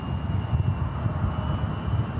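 Embraer E-jet airliners at San Francisco airport, a low rumbling engine roar with a faint steady whine above, continuous and moderately distant, no talk.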